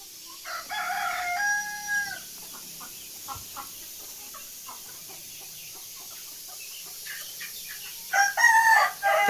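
Free-range gavran chickens on a farm during hot summer weather: a rooster crows loudly near the start and again at the end, with scattered clucking from the flock in between and no talking.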